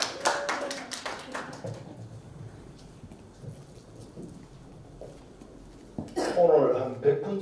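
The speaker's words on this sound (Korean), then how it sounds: "큰 박수로 맞이해 주시기 바랍니다" Applause at a Rotary International District 3700 conference: a burst of crowd clapping in the first second and a half, then quiet murmuring room sound, with a loud voice over a speaker system coming in near the end.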